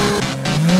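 A drag racing car's engine roars loud and close in a short burst, with its steady tone climbing near the end.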